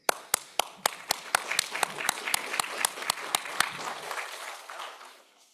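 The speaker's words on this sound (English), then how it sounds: "But first, an applause for the people of EuroDIG." Hands clap in a clear, evenly spaced rhythm at a EuroDIG 2025 workshop on quantum computing, crisp individual claps over a softer spread of audience applause that thins and fades out near the end.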